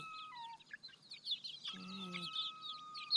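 Backyard village chickens, a hen with her brood, fill the air with high, busy chick peeping and occasional clucks, close by, while a short voice cuts in partway through.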